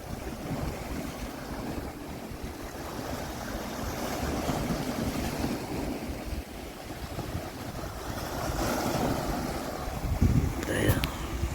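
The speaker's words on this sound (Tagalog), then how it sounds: "May hampas ng alon" Waves surge and wash against something nearby under gusty wind buffeting the microphone while fishing in Ajman, with a louder crash of water toward the end.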